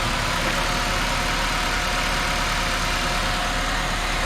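Honda K-series engine fitted with a sidewinder turbo manifold runs steadily at idle, a continuous close, loud rumble with no pauses and no talking.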